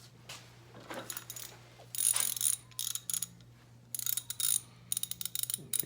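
A hand ratchet clicks in rapid bursts while loosening a clutch fastener on a 1985 Harley-Davidson FXRS SP motorcycle, close and crisp with short pauses between strokes.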